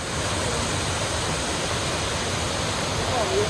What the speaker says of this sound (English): And waterfalls line the gorge.